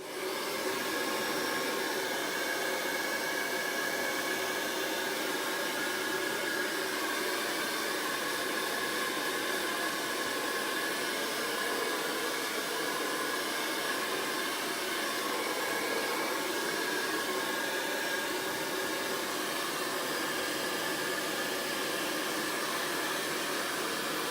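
A hair dryer blows steadily on craft paint, a constant close airy whir with no pauses and no talk throughout.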